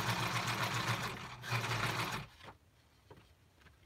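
A sewing machine runs in two quick bursts as it stitches embellishments onto a card, rapid close mechanical whirring that stops abruptly and leaves quiet handling noises.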